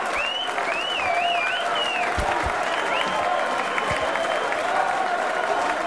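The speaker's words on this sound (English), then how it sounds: "And let's give a big round of applause to Scotty Waits." Dense crowd applause with cheering and whistles fills a darts arena at the 2009 BDO Lakeside World Championship quarter-final, steady and loud throughout.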